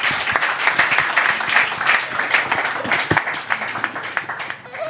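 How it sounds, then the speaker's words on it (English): An audience at a talk show claps steadily for several seconds, dense applause that gradually tapers off toward the end. "Round of applause for yourselves."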